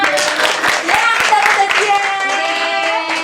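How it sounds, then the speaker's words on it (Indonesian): Students at an Islamic boarding school health education session clap for a classmate in a brief burst of uneven clapping, with several voices chattering and calling out over the claps. "Tepuk tangan buat temennya."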